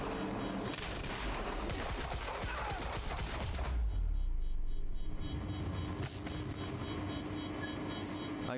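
Gunfire aimed at a glass window in Quantum Break, rattling bursts of shots crowding the first few seconds, then a deep rumbling swell and a quieter, ringing tail with lingering echoes.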